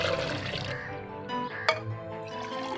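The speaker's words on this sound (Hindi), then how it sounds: "अब बच्चों मैं पानी डालने लगी हूँ।" Water poured from a glass into a grape juice mixture with salt and ice cubes, a close, bubbling stream of liquid that swells and settles, with a brief clink partway through.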